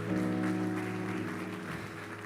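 Congregation applause for Jesus during a Spanish-language church service, a steady, close wash of clapping mixed with sustained tonal sound, holding at an even level for the whole stretch.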